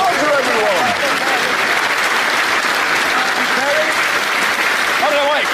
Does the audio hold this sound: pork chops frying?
no